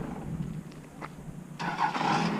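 A diesel engine runs at a low, steady rumble, fairly faint, with a brief louder rise toward the end.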